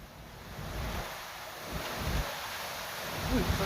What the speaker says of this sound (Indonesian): Hujan dengan intensitas tinggi disertai angin kencang juga menerjang kawasan Pelabuhan Merak